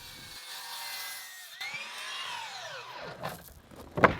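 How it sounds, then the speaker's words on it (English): A handsaw cuts wooden workbench legs to length against a stop block for a garden work bench, the strokes rasping steadily and close, ending in a brief louder knock. "I'll set up a stop block and cut the legs at 33 1/4."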